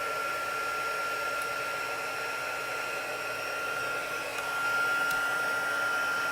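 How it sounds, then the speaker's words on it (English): Heat gun running at a hobby stamping craft desk: a steady, close blowing whoosh with a faint high whine throughout, swelling slightly near the end. "I'm going to bring over the heat gun."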